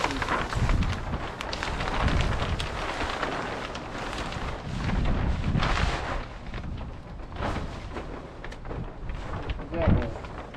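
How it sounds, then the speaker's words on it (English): Gusty wind buffeting outdoors in uneven surges, rumbling loudly against the microphone, with a brief stronger gust near the end. "It's really windy today."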